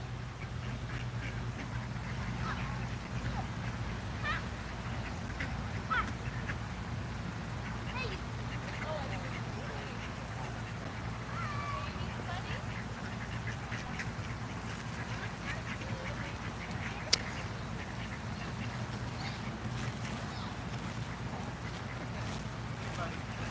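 A large group of ducks quacks in scattered bursts beside water, mixed into a constant low rumble of wind or engine, with people talking through much of it.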